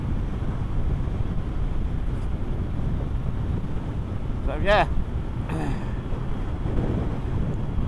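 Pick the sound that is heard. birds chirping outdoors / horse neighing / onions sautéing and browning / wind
wind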